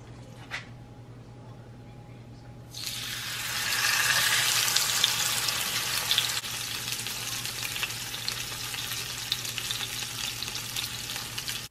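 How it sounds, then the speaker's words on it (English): Blackened snapper fillet sizzles in a pot with olive oil and a little lime juice, a quiet hum giving way to loud, steady frying crackle that continues close up for several seconds. "So I added some olive oil to the pot and I added a little bit of lime juice"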